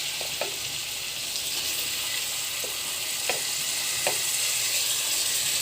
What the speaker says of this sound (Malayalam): ഇനി ഞാൻ കൊഞ്ചിട്ട് കൊടുക്കാൻ പോവാം